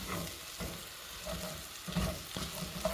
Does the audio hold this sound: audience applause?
no